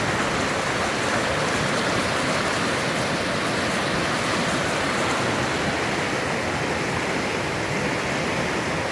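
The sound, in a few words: rushing creek water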